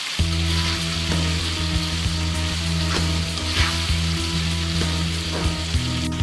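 Vegetables fry in a pan with soy sauce over high heat, a loud continuous sizzle close up, with regular stirring scrapes and knocks of the spatula throughout.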